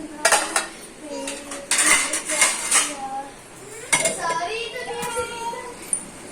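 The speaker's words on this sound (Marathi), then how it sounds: "भांड्या बिंड्या पडा लागली" Pots, pans and utensils clatter and clink in a lively home kitchen, with bursts of metallic crashing scattered across the clip while children and adults talk and shout over them.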